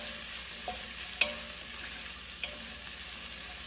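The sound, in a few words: sautéing garlic and ginger in a pan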